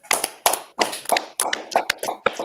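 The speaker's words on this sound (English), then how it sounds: "Let's clap it up." Audience clapping at a Purim feast opening, heard as bursts of applause in several uneven waves of claps over a couple of seconds, with no speech.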